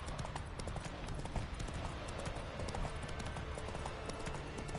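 Roach the horse clip-clops along in The Witcher 3, a quick, steady rhythm of hoofbeats close up, repeating evenly over a constant background hum.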